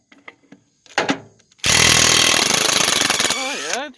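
A Craftsman 1/2-inch impact wrench rated at 350 foot-pounds hammers loudly at lug nuts on a one-ton Dodge Ram wheel, a sustained close rattling burst after a few short clicks and a brief blip, then winding down.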